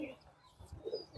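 Breeder pigeons in a loft giving soft low coos, faint and brief against a quiet background.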